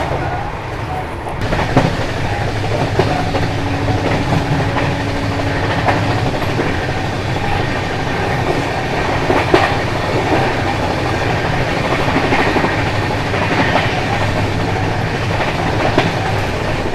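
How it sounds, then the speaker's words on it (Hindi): The West Bengal Sampark Kranti Express passenger train runs at high speed, giving a loud, steady rumble with rhythmic clickety-clack of wheels over rail joints throughout. "क्या भाग रही है अपनी वेस्ट बंगाल संपर्क क्रांति।"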